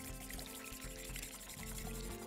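Eggs poured into a pot of water as it starts to boil, a soft, brief pour and slosh, quiet and close.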